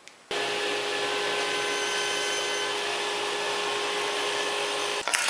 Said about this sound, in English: I'll make the rabbet for the plywood in 2 passes on the table saw.